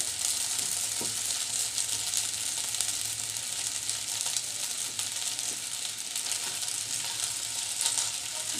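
Vaja mera pitha dumplings fry in hot oil with a dense, steady sizzle and bubbling, and a few soft knocks come as they are turned. The sound is close, with no speech.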